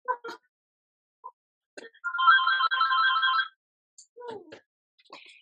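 Telephone ringing indoors, one electronic ring lasting over a second amid brief scattered voices.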